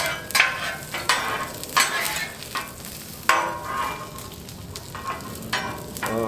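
Mushrooms being stirred in oil on a Blackstone griddle, with repeated scraping strokes of a spatula over a steady, close sizzle; no talking.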